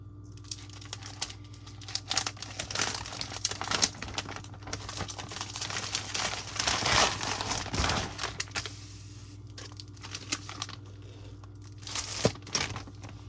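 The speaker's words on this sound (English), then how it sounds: "I think this is resealable, so I'm going to try to save the bag after I open it" A resealable plastic bag holding a pack of large microfiber glasses-cleaning cloths is pulled open, giving close crinkling and tearing plastic with a few sharp rips, moderately quiet over a steady low hum.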